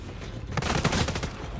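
A short rattle of gunfire in Call of Duty: Modern Warfare 3, a quick burst of shots swelling briefly in the middle of a tense combat mix.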